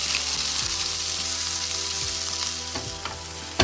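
Garlic and onion sizzle in a very hot pan, a dense steady frying hiss with occasional stirring scrapes and a sharp clink near the end, close and loud with no talking.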